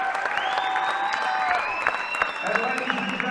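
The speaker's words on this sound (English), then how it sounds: "how about a round of applause for the Section 4 AA runner-up" A crowd applauding the Section 4 AA runner-up team at a boys' hockey section final, steady clapping from a full arena running continuously under a loud, echoing public address voice.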